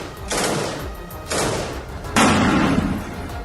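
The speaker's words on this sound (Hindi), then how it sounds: "अंदर घुसने से पहले दरवाजे पर गोली चलाकर चेक किया कि अंदर कितना बड़ा खतरा है।" Soldiers fire on a house door before entering during the Israel–Gaza war. Three loud, close bursts of gunfire ring out about a second apart, each with a long, harsh decay.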